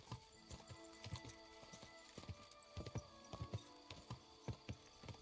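Horse hooves clip-clop at a steady riding pace in a video game, a fairly quiet, regular patter of hoofbeats with no talking.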